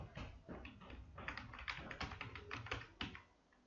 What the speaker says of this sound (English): then you need to type your password